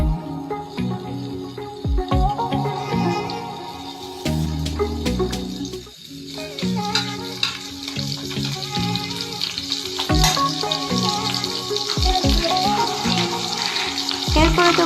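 Cumin, garlic and ginger fry in a little oil, a continuous close sizzle with scraping stirs and occasional clinks, steady throughout with no clear talk.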